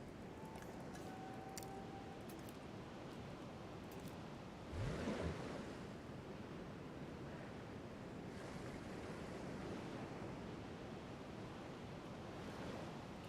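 Steady lake water ambience from Jurassic World Evolution 2, a soft continuous wash of lapping water and breeze, faint and even throughout with one brief swell midway.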